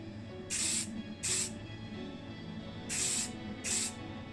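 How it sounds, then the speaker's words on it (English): Four short bursts of aerosol spray paint coat a Hot Wheels Vette-Van part in satin black, each hiss lasting about half a second with quiet pauses between, close and fairly loud. "this will be getting the same treatment, painted in satin black"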